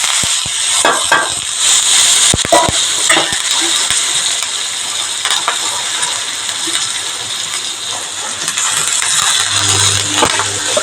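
Green chillies and curry leaves hit hot oil for a tomato curry, giving a steady, loud crackling sizzle with sharp pops scattered throughout and no talking.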